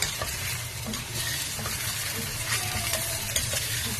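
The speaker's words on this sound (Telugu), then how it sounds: "ఈ విధంగా బాగా కొంచెం లైట్ కలర్, బ్రౌన్ కలర్ వచ్చే వరకు మనము లైట్ గా వేపుకున్నాం" Chopped onion frying in oil in a pan, a steady close sizzle with occasional stirring scrapes and clinks.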